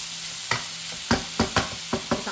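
Pork liempo browning in hot oil for adobo sa gata, heard as a soft steady sizzle broken by several sharp stirring scrapes and clatters at uneven intervals, close and fairly quiet with no talking.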